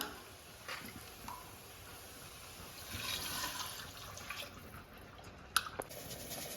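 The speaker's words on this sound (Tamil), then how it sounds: "நம்ம ரெண்டு டம்ளர் தண்ணி ஊற்றிக்கலாம்" Water is poured onto rice in a pressure cooker, splashing softly and trickling faintly in a quiet room, with a couple of brief clinks near the end.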